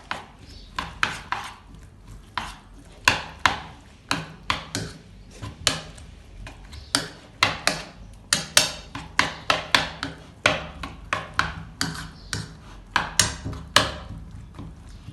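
Oats, egg and seasoning batter being stirred in a bowl for an omelette, a steady run of sharp clinking and tapping strokes of utensil against bowl, close and fairly loud, with no talk over it.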